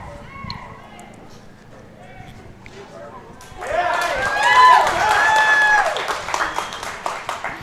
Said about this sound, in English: You can hear the cheering.